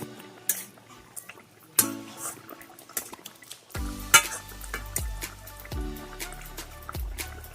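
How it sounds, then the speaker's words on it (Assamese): Fish curry with mustard greens bubbling in a pot, with clinks of a spoon or ladle against the metal, soft stirring and intermittent sharp knocks over a steady simmer. "এয়া দেখিছে কেনেদৰে উতলি আছে।"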